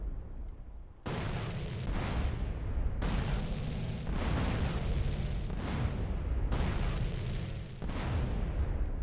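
Explosions in the video game Grand Theft Auto: San Andreas erupt in four loud, rumbling booms, each one a long roaring blast with a decaying tail that runs straight into the next, close and heavy with no speech.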